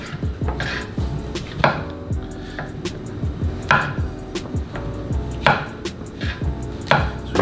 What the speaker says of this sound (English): Our mushrooms, we're gonna cut in half.